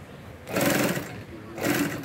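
A leather sewing machine stitches stiff car seat leather in two loud, buzzing bursts of rapid needle action, with a brief quieter pause between them.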